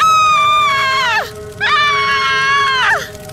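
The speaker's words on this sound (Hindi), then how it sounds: "और वो चुड़ैल चिल्लाती हुई भस्म हो जाती है" A witch screams as she burns in a Hindi horror story, two long high wailing shrieks, each held about a second and falling off sharply at the end, loud and close with a short gap between them.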